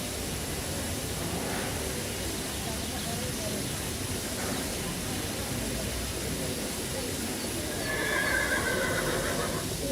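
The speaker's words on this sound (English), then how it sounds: "I hear some voices of horses. Okay, so there's horses just next to the station." Horses whinny near a railway station in the Thomas and Friends: Wonders of Sodor video game, a short high neigh rising out of a constant hissing ambient bed, with faint earlier calls buried in the background noise.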